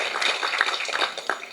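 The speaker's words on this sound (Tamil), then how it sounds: "ஆகவே கொஞ்சம் எழுந்திரிச்சு உட்காந்து ஐயாவை வாழ்த்துவதற்கு ஒரு முறை கைதட்டுங்க மனமாக." A crowd applauding together to honour an elderly speaker at a Tamil speech event, a dense, steady patter of many hands clapping for a moment with no talking over it.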